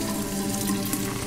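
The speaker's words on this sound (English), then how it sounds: "Turn the water on." A water tap runs in the Fran Bow video game, a steady full rush of water filling the whole moment without a break, close and fairly loud with no voices.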